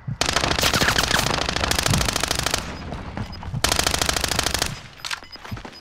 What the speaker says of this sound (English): Wasting my SMG for this part.